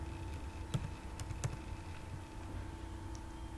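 A sales order number is typed on a computer keyboard: a few sparse, crisp key clicks sound close by over a steady electronic hum, with no talking.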